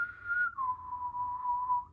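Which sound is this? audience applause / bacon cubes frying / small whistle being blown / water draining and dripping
small whistle being blown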